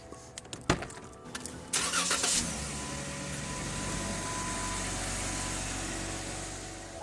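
A car engine cranks after a few door and handling clunks, catches and settles into a steady, fairly quiet idle that continues to the end, with no talk.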